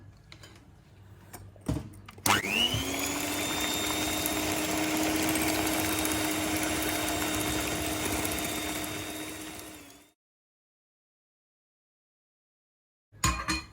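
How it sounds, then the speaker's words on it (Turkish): Electric mixer whisking eggs and sugar for an apple cake: a faint click, then the motor starts with a jolt and whirs steadily for about eight seconds before cutting off into silence, with a brief clatter at the end. "İlk önce yumurta ve şekeri iyice çırpacağım"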